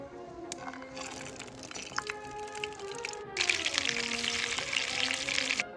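Stuffed peppers fry in a pan, a steady crackling sizzle that swells louder midway, with faint clinks and taps throughout.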